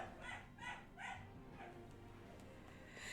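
A pet dog somewhere in the house barks three or four times in a quick run, faint and distant, followed by quieter pauses.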